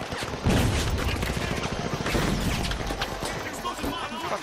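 Gunfire in a multiplayer shooter video game, dense rapid bursts of shots cracking one after another throughout, with voices talking over the shooting.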